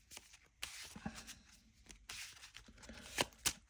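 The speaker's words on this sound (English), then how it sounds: "Shuffle these up." A deck of Marvel Champions game cards is shuffled at a table, with quiet riffles and soft card slaps, the two sharpest snaps coming near the end.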